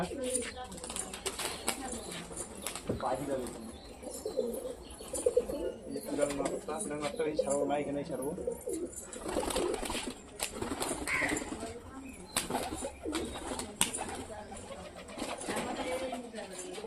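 Pigeons cooing among a collection of pigeons, steady low coos and occasional wing flutters throughout, with a person talking over them.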